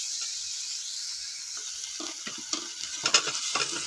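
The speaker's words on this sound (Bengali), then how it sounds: "আবার একটু নাড়াচাড়া করে কষিয়ে নিচ্ছি আলুগুলো" Fried potatoes being stirred into a spice masala in a pan: a soft sizzle that builds into a few clattering spoon scrapes and knocks toward the end, close by, with no voices.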